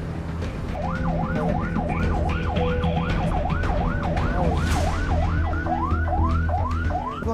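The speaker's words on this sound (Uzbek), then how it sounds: "ovozi chiqyapti sirena bor" An emergency siren wails in rapid repeating up-and-down sweeps over steady traffic rumble, fairly close and continuous.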